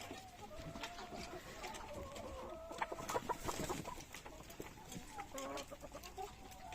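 Chickens cluck and murmur softly at close range in a coop at dusk as they settle to roost, with a few louder squawks in the middle over a quiet, rustling background.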